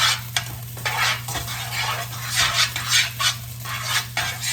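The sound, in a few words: stirring fried rice in a pan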